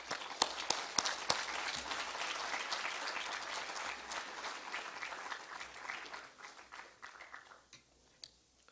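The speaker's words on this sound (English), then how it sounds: "So I'd like everybody to join me in giving big hand applause to Dr." Audience applause at a conference session, a dense, sustained burst of clapping from a seated crowd, moderately distant, thinning out and tapering to scattered claps toward the end.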